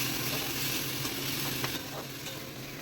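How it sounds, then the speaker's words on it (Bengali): Ginger, onion, garlic, chilli and tomato spice paste sizzling loudly as it hits frying potatoes in a pan, a steady close crackling hiss with faint stirring scrapes throughout. "দেখো আলুগুলো ভাজা হয়ে গেছে এবার আমি দিয়ে দেবো মশলাটা"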